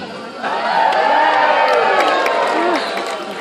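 A crowd of children cheers and shouts loudly at a zoo seal show, voices swelling together into a sustained roar that fades slightly at the end.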